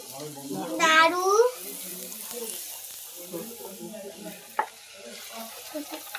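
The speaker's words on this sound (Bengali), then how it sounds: "এখানে লুচি ভাজা হচ্ছে" Luchi deep-fry in hot oil with a soft, continuous sizzle and bubbling. Voices talk nearby over it, with a brief louder exclamation near the start.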